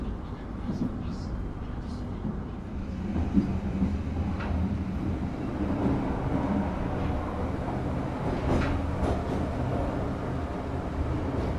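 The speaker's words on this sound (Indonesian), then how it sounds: "Kereta api Gajayana yang saya naiki telah tiba di stasiun Ulingi." Interior of the Gajayana passenger train arriving at a station: a steady low rumble of rolling carriages with faint clatter and squeals, continuous and fairly close, with people talking in the background.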